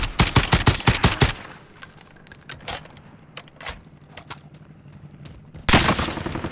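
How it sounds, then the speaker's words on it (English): Rapid automatic gunfire from a FAL and a Rytec in Mini Royale: a fast close burst of shots opens, scattered single shots and metallic clicks follow in a quieter stretch, then another loud burst near the end. "Taking effective fire."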